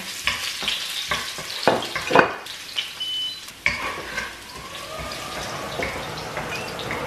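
Onion and garlic sauté in a pan for adobo, a low sizzle with several sharp utensil clatters and scrapes early on, then a softer, steadier hiss with faint running-water-like noise, close by and with no speech.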